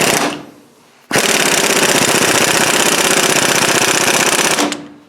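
A large impact wrench runs a bolt down hard, one loud sustained rattling hammer burst of about three and a half seconds, close and alone, after a short quieter spin-up at the start.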